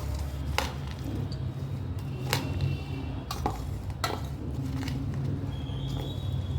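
Bhel gets stirred with fresh coriander in a bowl, with a few sharp utensil clinks against the bowl and soft rustling in between, close and fairly quiet.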